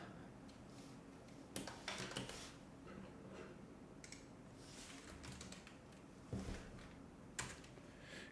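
Keys on a computer keyboard are pressed in a few scattered bursts of quiet clicking and tapping, heard close but faint against a low room hum.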